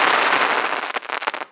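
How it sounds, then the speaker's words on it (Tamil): A 4-inch Sivakasi firecracker bursts, a loud sharp blast followed by a rapid run of crackling pops that fades out within about a second and a half. "4 இன்ச்சு பாருங்க ஃப்ரெண்ட்ஸ், பாப்பா எப்படி வெடிக்குது."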